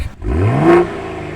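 A Toyota Supra A91 fitted with an XFORCE exhaust revs close by, one sharp rising blip that peaks and then settles back toward idle, loud with no talking.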